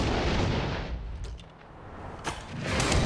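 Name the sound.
grenade explosion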